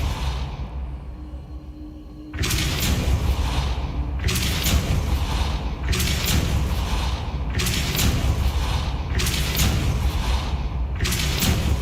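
In Hogwarts Legacy the Depulso spell gives a run of heavy, booming bursts that repeat about every one and a half seconds after a quiet start, loud and close, with no talking.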